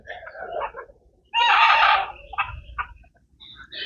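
Chickens clucking and a rooster's crow-like call on a farm, with chicks nearby; a loud burst of fowl calls in the middle, shorter clucks before and after, fairly close.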